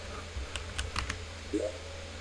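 A cat walks across a computer keyboard, pressing keys in a short irregular burst of clicks over steady background hum, with a soft voice briefly heard near the end.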